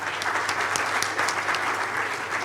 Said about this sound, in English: I request everyone to please have a big round of applause for that